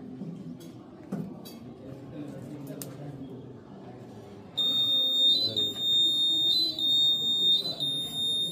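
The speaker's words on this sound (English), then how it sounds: "when it will detect, then this buzzer will make up." Buzzer of a student's rainwater detector at a school science fair sounds partway through, a loud shrill steady beeping tone pulsing over a noisy hall with people talking.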